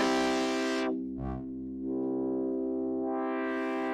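A major chord is held on a Novation Peak synthesizer, a rich sustained tone with a bright buzzy edge that drops briefly to a darker, thinner sound and then swells bright again.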